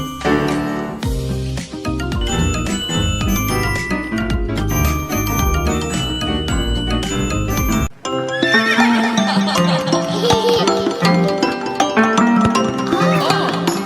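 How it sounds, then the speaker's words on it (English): A horse neighs amid a busy, loud children's song with bells and bright instruments, the music shifting to a new section partway through. "Neigh, neigh, the horses say."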